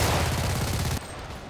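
A PPSh submachine gun in the shooter Enlisted fires a loud, fast continuous burst for about a second before cutting off abruptly, leaving quieter battlefield background.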